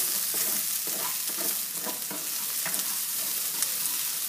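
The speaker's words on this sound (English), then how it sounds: "I'm gonna go ahead and turn the heat back up on it a little bit so that it can start sauteing together" Onions sauté in a pan over raised heat, giving a steady, close crackling sizzle with soft stirring scrapes mixed in throughout, no voices.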